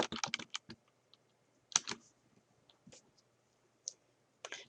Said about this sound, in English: Let's go to cell N as in Nancy, N8, and type in items sold